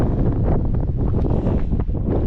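Strong wind buffets the microphone in a continuous, loud rumbling roar with gusty surges throughout, no voices.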